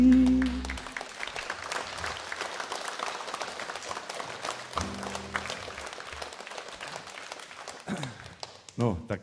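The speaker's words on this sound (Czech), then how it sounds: "No, tak teď jste tleskali ze slušnosti, nebo se vám to líbilo?" Concert audience applauding after a Czech folk song, steady dense clapping that swells briefly with a few cheers, the last chord of the music fading at the start and a voice beginning to talk near the end.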